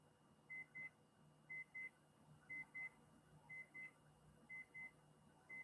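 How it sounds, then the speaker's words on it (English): Electronic beeping sounds indoors: quiet, high, paired tones repeat about once a second in a steady pattern over a faint room hum. "something's beeping."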